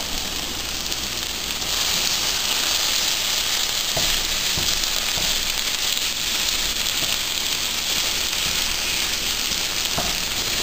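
Ground beef dropped onto onions frying in a pan crackles in a loud, dense, unbroken sizzle, with faint occasional taps of a utensil, close up and no talking.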